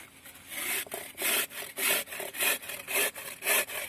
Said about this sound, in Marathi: तर किसणीवरती आपल्याला हे गाजर किसायचे आहेत